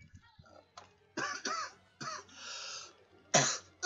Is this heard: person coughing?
yes